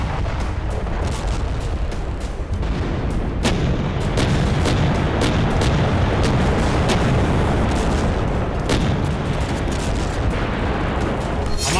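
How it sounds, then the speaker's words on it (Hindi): Artillery guns and main battle tanks firing at a military display, heavy booms and sharp blasts repeating irregularly over a continuous loud rumble, with no voices. "हमारी तोपों, टैंकों की जो गर्जना आप देख रहे हैं"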